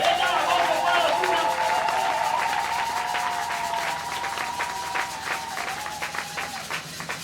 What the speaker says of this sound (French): acclamons pour la gloire du Seigneur